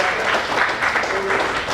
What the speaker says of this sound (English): let's clap for this guy